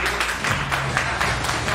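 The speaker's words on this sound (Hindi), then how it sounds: "तो इसके लिए भाई एक बार ताली बजाइए।" A small group in a gym claps for the winner of a push-up challenge, with quick, dense, fairly close applause lasting under two seconds.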